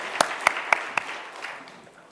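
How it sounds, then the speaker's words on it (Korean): Church congregation applauding in a worship service: a few sharp, separate claps at the start, then scattered clapping that thins out and fades over about two seconds. "하나님께 영광의 박수로 돌리겠습니다."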